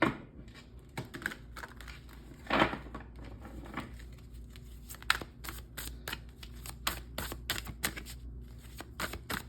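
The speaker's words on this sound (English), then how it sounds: "I'm going to do a good shuffle first." A deck of tarot cards shuffled in repeated riffles and bridges, crisp flapping bursts close up, with short pauses between shuffles and no talking.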